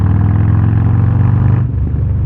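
Harley-Davidson Road Glide ST motorcycle with a Sawicki Speed exhaust accelerating, a loud, close, rumbling engine note that holds steady, then drops off sharply as the throttle closes.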